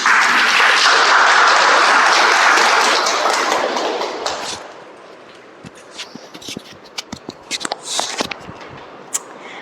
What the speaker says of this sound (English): Let's welcome with a huge round of applause